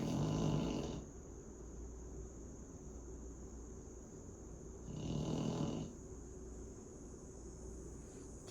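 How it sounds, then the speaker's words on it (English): A baby snores softly nearby in two slow breaths, one at the start and another midway, over a quiet, hissing room background with no speech. "Baby is snoring."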